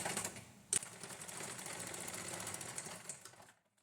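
A sewing machine runs steadily as it stitches the hem of a fall onto a saree, a fast even mechanical chatter with one sharp click near the start before it stops abruptly.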